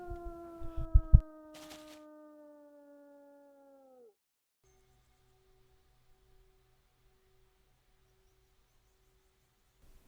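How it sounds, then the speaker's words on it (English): Wolves let out a long howl up front, with sharp yips and barks mixed in at the start. The howl falls away after a few seconds and leaves a faint, quiet tail. "but howling wolves can frighten them."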